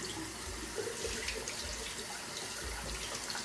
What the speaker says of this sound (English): Get the brush wet.